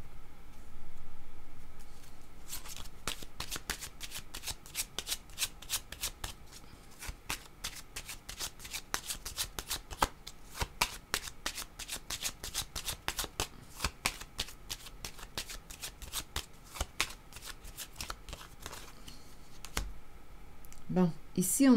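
A deck of tarot cards is shuffled close by. Rapid, steady riffling clicks run for most of the stretch, with quieter handling at the start and end.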